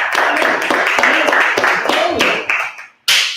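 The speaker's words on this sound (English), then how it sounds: "Everybody give a round of applause." A small audience at a live cupcake demo at a bakery claps for the chef, brisk and fairly close, with voices over the clapping, then a short pause and a final burst.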